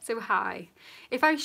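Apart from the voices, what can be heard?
None of the usual background noises is heard.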